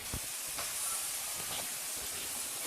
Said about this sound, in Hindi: इसमें भी हम प्याज डालेंगे और इसको करेंगे फ्राई